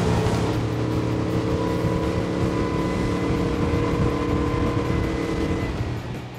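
A Honda BF350 V8 outboard motor runs steadily at 4,100 RPM, a loud continuous drone with a low hum and wind noise, easing slightly toward the end, with no talk.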